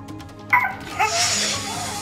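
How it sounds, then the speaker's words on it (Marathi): A dog sleeping on a bungalow's front steps barks and whimpers as a leopard attacks it. The clip holds a few sharp, close yelps followed by a strained, whining cry. "बंगल्याच्या पायरीवर झोपलेल्या कुत्र्यावर बिबट्याने हल्ला केला"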